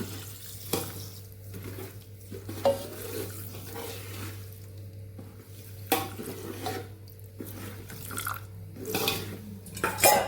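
Water running from a tap into a pan of sugar to make syrup for winter adadiya sweets, a steady close pour with brief splashy bursts and a constant low hum underneath, no talking.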